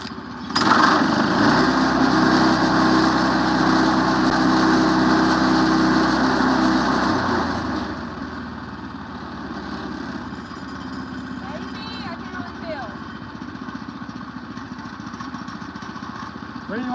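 A Woodland Mills HM122 portable sawmill's small gas engine runs loudly and steadily under cutting load for about eight seconds, then settles to a quieter idle as faint talk and clattering come through.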